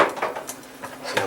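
Buttered Hungarian nokedli dumplings are tipped back into a pot, a quick scatter of soft clattering and utensil taps against the metal, close and moderately loud, no voices.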